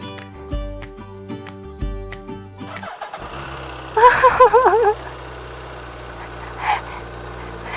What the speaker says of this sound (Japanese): じゃあエンジンかけます。